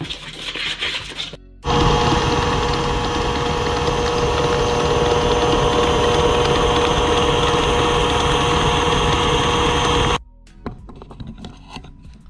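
Electric mixer beating sugar cookie batter: a steady, loud motor whir and grind running continuously for about eight seconds, starting and stopping abruptly, with quiet room sound on either side.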